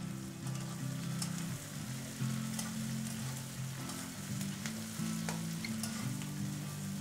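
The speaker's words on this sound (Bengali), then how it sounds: "পেঁয়াজটা কিছুক্ষণ ভেজে নেব। পেঁয়াজটা একটু তোমরা মাঝে সাঝে নেড়ে দেবে," Onions fry in a pan for a Bengali-style chicken liver and gizzard dish, giving a steady close sizzle with occasional stirring scrapes and crackles, alone without talk.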